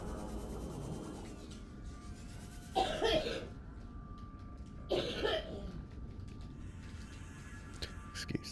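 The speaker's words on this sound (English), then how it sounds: "Excuse the background coughing." Two muffled coughing bursts come from a distance, a few seconds apart, under a quiet, steady background hum with faint ticking.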